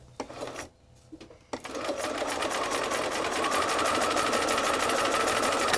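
A sewing machine stitches at a steady fast rhythm after a few short starts and stops, running continuously and close by with no voices.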